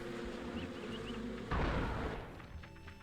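Buzzing beehive in the video game Psychonauts, a steady insect drone layered over low game ambience, with a heavier rumbling burst partway through before the buzz thins out.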